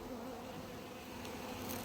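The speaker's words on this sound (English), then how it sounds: "wasps are horrible things, but they're part of the food chain" A steady, close wasp buzz at an apiary, droning continuously without pause.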